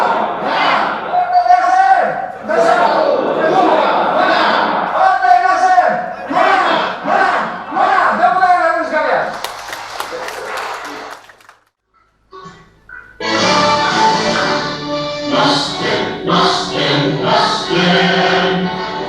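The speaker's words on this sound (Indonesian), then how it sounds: "sambutlah yel-yel Partai Nasdem berikut ini" Crowd at a NasDem party tenth-anniversary rally in Palembang chanting party yells, loud rhythmic shouted phrases in unison, a short pause, then the chanting resumes just as strongly.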